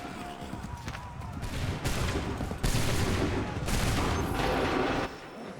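Musket volleys crackle in the video game Assassin's Creed 3, several broad bursts of massed fire rolling over a busy battlefield, with voices mixed in.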